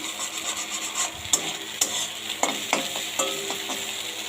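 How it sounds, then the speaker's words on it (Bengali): An egg frying in a pan, with a steady sizzle under intermittent scraping and stirring clicks from a utensil, close up, with no talking. "এই যেখানে ডিমটা ভেজে নিচ্ছি।"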